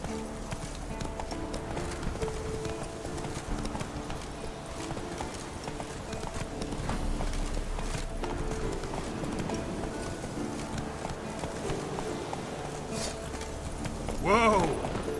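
The horse Roach gallops in The Witcher 3 with steady rhythmic hoofbeats clip-clopping over ambient game sound, and a short whinny near the end.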